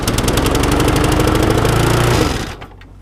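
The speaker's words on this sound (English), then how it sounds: "a McCulloch mower, again with a 450 Briggs on the side" A McCulloch lawn mower with a Briggs 450 engine runs loud and close in a steady mechanical drone, then cuts out and winds down near the end.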